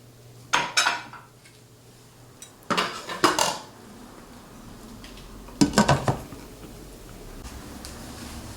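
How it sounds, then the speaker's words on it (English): Rice stirred into garlic soup in a pot, with three clusters of metal spoon scrapes and clinks against the pot over a quiet simmering background, no speech. "So now I'm stirring the rice in"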